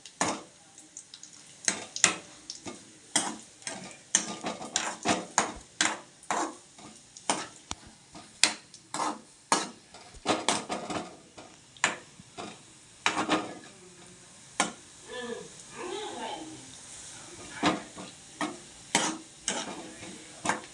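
Cashews fry with browned coconut in a pan for a Tamil jackfruit payasam, with a soft sizzle under irregular, close metallic clicks and scrapes of a spoon stirring, and no talk.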